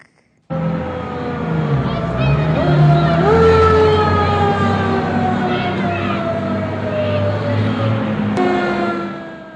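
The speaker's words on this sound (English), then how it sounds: "The siren sounded for Santa as he arrived" A fire truck siren wails loudly and steadily, rising and falling in pitch close by, with engine rumble beneath it, at a Santa arrival event.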